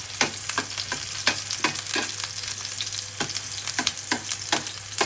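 Pork chop with onion, calamansi and soy sauce sautéing in a pan gives a steady sizzle, with repeated sharp scraping strokes of stirring at an uneven rhythm, close and fairly loud, with no talking.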